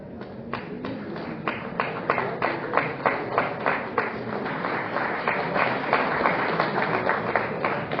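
An audience at a pharmacy technology event applauds a speaker with steady, even clapping that stays at a fairly constant level throughout.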